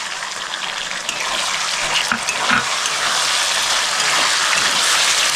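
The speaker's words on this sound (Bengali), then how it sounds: "আমি 1 বাটি টমেটো সস দিয়ে দিচ্ছি।" Tomato sauce goes into a pan of chilli chicken, setting off a steady loud sizzle and bubbling frying hiss with a few soft stirring knocks partway through.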